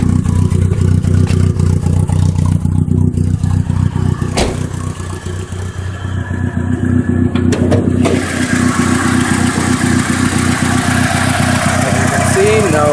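A 1987 Shelby CSX Shadow engine running steadily with the hood up, a loud continuous low rumble under a brief passing voice, with no clear misfire or clatter standing out.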